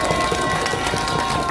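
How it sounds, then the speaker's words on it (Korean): A crowd claps at an outdoor rally for the Yongin Suji district office staff, a steady, dense wash of applause running through the whole stretch without pause. "용인수지구청 직원분들을 위해서 우리 박수 한번 쳐줍시다."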